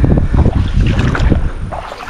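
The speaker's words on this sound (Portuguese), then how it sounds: "É mó de vento, mano. É mó de vento" Strong wind blasts across the microphone outdoors while fishing on the water, a loud, continuous rumbling roar with gusty surges throughout and no talking.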